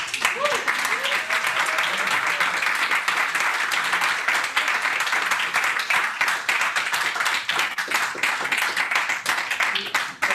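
A large audience bursts into sustained applause for a speaker at a mindfulness and healing talk. The clapping is loud, close and continuous, with a few voices mixed into the crowd.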